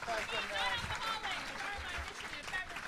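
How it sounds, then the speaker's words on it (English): A convention crowd at Dragon*Con breaks into a dense, sustained round of applause with cheering voices mixed in, steady and loud for the whole stretch. "huge round of applause for Xenomorph and Horseboy for helping us out"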